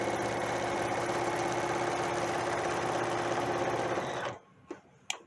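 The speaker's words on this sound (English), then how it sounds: "And now we're going to sew this other part." A sewing machine runs steadily, stitching fabric during garment construction for about four seconds at an even, loud whir, then stops and leaves a few soft clicks and handling noises.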